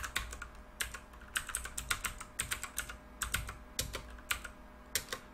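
Rapid typing on a computer keyboard while entering two number variables into a program, with clustered bursts of clicky keystrokes and brief pauses in between, close and fairly quiet, no talking.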